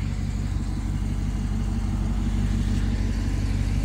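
A low, steady truck engine rumble idling continuously, close by and fairly loud, with no talking.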